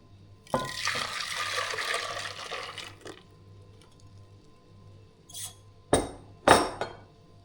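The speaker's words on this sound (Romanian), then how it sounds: "Și punem compoziția înapoi în cratiță." A vanilla cream mixture poured back into a saucepan in a kitchen: a soft, steady liquid pour for a couple of seconds, followed by a few sharp clinks and scrapes against the pan near the end.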